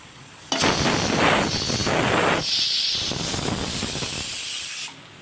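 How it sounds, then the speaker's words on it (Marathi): A pressure cooker on a gas stove, cooking whole masoor lentils, lets out loud, steady steam hissing and whistling that holds for about four seconds before cutting off abruptly. "कुकरला दोन शिट्या झालेले आहेत"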